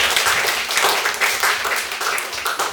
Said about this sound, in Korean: 우리 서로를 향해서 우리 격려의 박수 한번